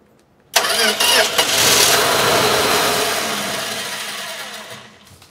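A 1965 Plymouth Valiant slant six engine, helped with ether, cranks and fires up abruptly, then runs loud and rough for several seconds before fading out.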